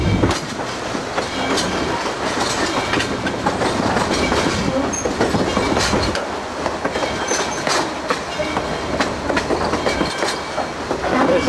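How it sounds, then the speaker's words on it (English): A train rolls past a depot beside the Norfolk Southern main line, its wheels clicking steadily over rail joints in a loud, continuous rumble close by, with no talk. "I want to get the train going by the depot."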